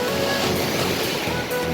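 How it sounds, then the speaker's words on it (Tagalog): Ocean waves at a beach in Baler rush and wash steadily in a dense, loud roar of surf, with some wind noise over the microphone and no talk. "Ayan, medyo malaki yung alon, medyo malalim siya."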